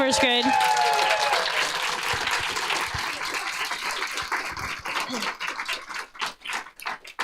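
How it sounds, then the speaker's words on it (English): Audience applause for a first grade school musical: a clapping crowd that starts full and steady, then thins into scattered, uneven individual claps toward the end, with some voices and a brief tone at the start. "Can we give them another big round of applause?"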